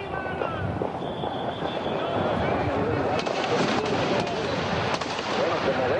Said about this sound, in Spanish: empezaron a disparar en la dirección de donde parecían venir los disparos